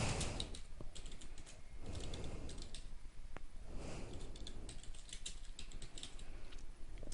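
Search terms are typed on a computer keyboard in quick bursts of close, soft key clicks with brief pauses between words, no talking.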